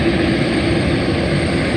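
MD-11 jet engines roaring as the airliner departs Reno airport, a loud, close, continuous broadband roar that holds steady throughout with no voices.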